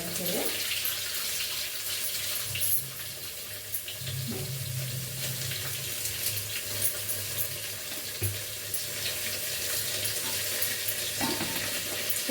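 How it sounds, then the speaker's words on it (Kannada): Curry leaves hit hot oil while a green gram curry is being made, giving a loud, steady spattering sizzle that persists throughout with a few low knocks. "ಇವಾಗ ಸ್ವಲ್ಪ ಕರ್ಬೇವಿನ ಸಪ್ಪರೆ ಹಾಕೊಳ್ಳೋಣ"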